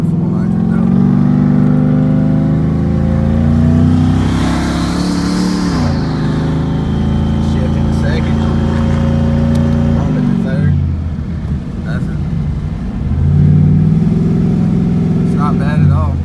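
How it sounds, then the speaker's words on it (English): A car with a single 76mm turbo on a Coyote V8 accelerates hard, heard from inside. A loud, continuous engine roar climbs and shifts, with a rising turbo whine on top. "that's just the turbo making a lot of noise"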